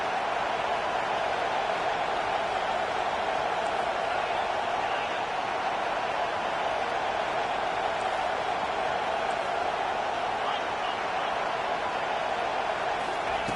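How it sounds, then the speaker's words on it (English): Home crowd at a college football game between Oklahoma and Auburn, a sustained wash of stadium crowd noise rising steadily through the whole stretch, broad and distant-sounding without clear individual voices. "Here comes this home crowd as the defense tries to get off the field on third down."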